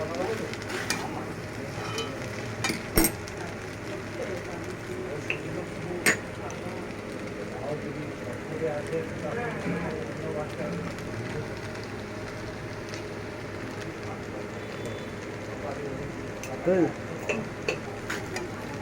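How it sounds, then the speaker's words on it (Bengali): Pasta being stirred in a pan with fried egg and salt, a steady sizzle under scraping spatula strokes, with a few sharp clinks against the pan, close by and continuous. "এবার আমি এগুলো নাড়াবো, আর এর মধ্যে একটু দিয়ে নেব নুন, একটু নাড়িয়ে নুনটা দেবো"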